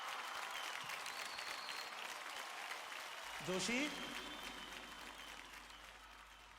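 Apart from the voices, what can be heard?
loud applause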